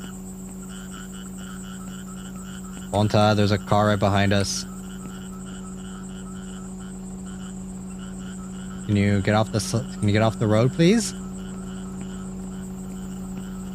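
Loud, steady chorus of video game frogs croaking continuously throughout, with two bursts of nearby talking layered over it.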